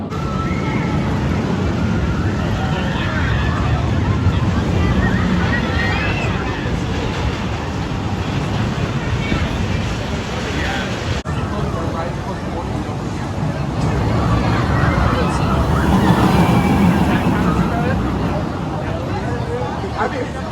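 Loud, continuous rumble and wind roar of the Ninja roller coaster at Six Flags St Louis, a ride with a rough reputation, with a brief jolt midway and muffled voices and shouts from riders throughout.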